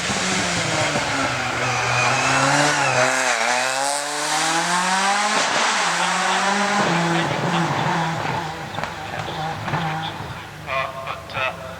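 A four-wheel-drive 1500 turbo rally car races at night on a stage rally, its engine revving hard and rising through gears, loud and close, with a commentator talking over it.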